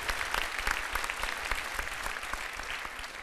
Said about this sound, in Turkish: Bu bölümü alkışla kapatalım.